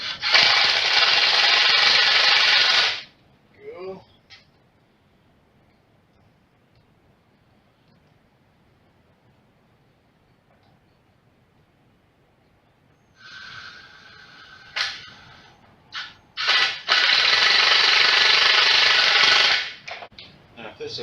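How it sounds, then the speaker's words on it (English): A Snap-on cordless electric screwdriver runs in loud, close bursts, one at the start and another near the end, with softer intermittent whirring and clicks between them and a long quiet stretch in the middle. "electric screwdriver, or cordless screwdriver."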